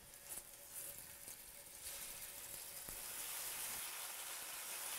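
Beef steak hitting hot oil in a pan for steak pizzaiola, a steady broadband sizzle that swells and stays loud and constant after the meat goes in, with no talking.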